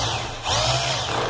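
A power drill bores a hole into a plasterboard wall, its motor buzz rising sharply after a brief start and holding steady and close for about a second, alone without talk.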